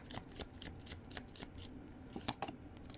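Tarot cards are handled and picked from a deck in a quiet room, making quick, soft papery riffles and flicks in an irregular rhythm, close by.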